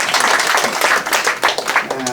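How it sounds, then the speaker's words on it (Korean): Dense clapping from a crowd at a literary award ceremony fills the space, steady and loud throughout, with a voice faintly overlapping near the end. "큰 박수 주시기 바랍니다"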